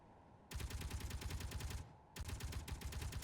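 An automated turret in Space Engineers fires in two long sustained bursts, dense rapid gunfire with a brief gap between them, loud and close.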